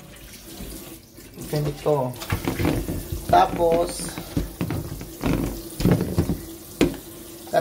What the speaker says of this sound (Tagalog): Tapos itong chicken ko, hugasan ko rin.